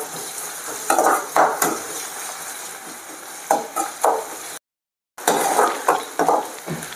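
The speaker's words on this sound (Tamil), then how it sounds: "இஞ்சி பூண்டு பேஸ்ட் கொஞ்சம் சேர்த்துக்கலாம். அதையும் இதில் வந்து நல்லா வதக்கிக்கணும்." Onion sautéing with ginger garlic paste for an oyster mushroom stir-fry, loud close sizzling broken by repeated scraping strokes of a spoon against the pan, with a brief dropout partway through.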